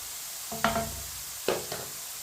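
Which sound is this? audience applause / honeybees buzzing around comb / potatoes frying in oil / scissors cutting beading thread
potatoes frying in oil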